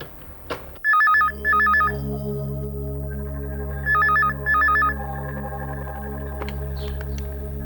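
A telephone in a Hindi TV drama rings in two pairs of sharp electronic double trills, loud and close, over a steady low musical drone.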